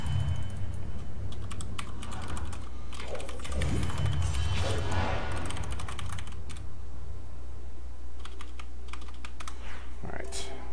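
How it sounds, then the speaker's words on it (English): Rapid typing on a computer keyboard runs throughout. The dense clatter of key presses sits under game sounds and occasional voice, during a Heroes of the Storm match. "alright, no more typing."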